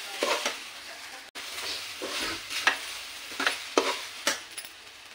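Sabudana khichdi is stirred in a pan, with a soft sizzle under repeated scraping strokes of a spoon against the metal, roughly one every half second to second, close and clear.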